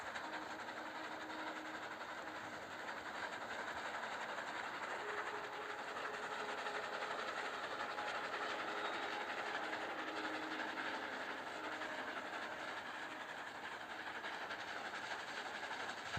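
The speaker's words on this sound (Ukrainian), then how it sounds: "Чому у нас їде потяг?" A video game train rolls along with a steady, faint rumbling and soft rhythmic rattling, continuous throughout without any voices.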